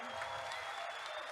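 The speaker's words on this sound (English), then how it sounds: "so we can give you a round of applause" Audience applause fills a live gaming convention event, steady and dense throughout with no breaks, close and enveloping like a full hall clapping together.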